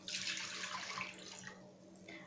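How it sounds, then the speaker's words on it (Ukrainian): Half a litre of milk poured into dissolved yeast for poppy seed rolls gives a steady, close liquid splashing that runs throughout and eases off toward the end, with no talk. "В розчинені дріжджі додаю пів літри молока."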